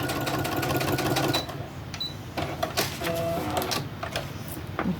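Sewing machine whirring in fast rapid bursts of stitching through paper pages, close up, stopping and restarting a few times with small clicks between runs.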